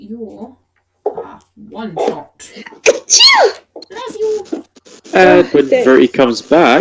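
A single sharp sneeze bursts out in the middle of lively conversation among several people at a tabletop role-playing game session, with voices talking before and after it.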